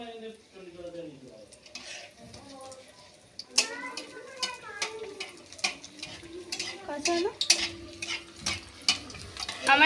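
Bread and potato snacks fry in hot oil with a crackling sizzle and frequent sharp stirring clinks from a utensil in the pan, while a voice talks over the start.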